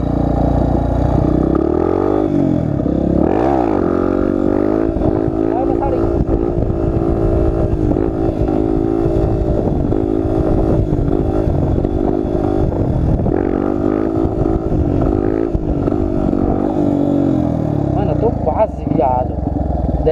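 Close, loud Dafra Lander 250 motorcycle engine revving and sustaining high throttle through a wheelie, with rising and dipping pitch and someone speaking over the continuous roar.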